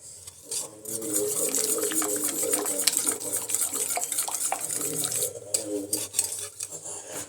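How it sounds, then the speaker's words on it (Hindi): Kadhi made with lassi being stirred steadily in a pot on a stove, a continuous scraping and swishing of the spoon against the pot while someone talks over it. "अब इसको फटाफट से मिक्स कर लेना है, नहीं तो जो लस्सी है ना वो फट जाएगी।"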